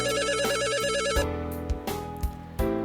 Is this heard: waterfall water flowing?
no